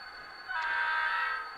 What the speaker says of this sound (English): 3-chime distinctive Leslie air horn for the Milwaukee Road.